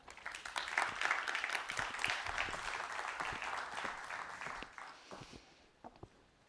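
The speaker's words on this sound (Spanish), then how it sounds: "Un aplauso para él" An audience at a Valencia technology forum applauds a speaker with dense, sustained clapping that holds steady for several seconds, then thins out and fades to near silence.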